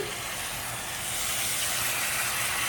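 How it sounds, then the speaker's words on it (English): Steady, loud sizzling hiss of steak searing in a hot pan as it is turned, a continuous crackling wash without pauses. "we're gonna go ahead and give our first steak a turn"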